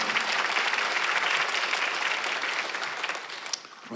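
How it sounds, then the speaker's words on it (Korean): A congregation at a Korean Sunday worship service breaks into sustained, dense applause that stays strong before gradually thinning toward the end. "빨리 박수"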